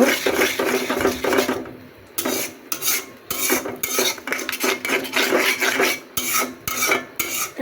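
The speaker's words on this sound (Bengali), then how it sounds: "এখন আমি ডিমটা দিয়ে দিলাম। ফুটিয়ে নেব, একদম গুঁড়ো গুঁড়ো করে নেব।" Egg being scrambled and broken into fine crumbles in hot oil in a metal pan, with repeated rasping scrapes of a utensil against the pan in an uneven rhythm, close and loud, with no talk.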